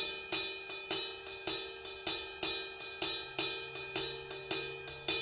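Cascara rhythm struck on the bell of a cymbal or a cowbell, a bright ringing metallic pattern of evenly repeating hits with recurring accents, played alone and close.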